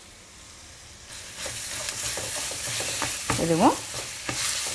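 Grated beetroot and coconut sautéing in hot oil for beetroot chutney, a steady sizzle with spoon stirring strokes and a brief squeak of the pan, a single word spoken.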